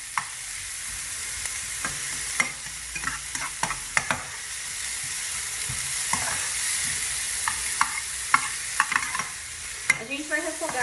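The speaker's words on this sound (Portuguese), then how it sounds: "E agora eu vou refogar a minha cebola." Chopped onion sautéing in a pan for a potato rösti filling gives a steady sizzle and frying crackle, with scattered clicks and scrapes from stirring throughout.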